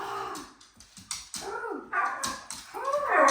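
Several dogs whimper and yip in quick, high, wavering bursts at close range, the whines rising and falling and growing more insistent toward the end, with no talking.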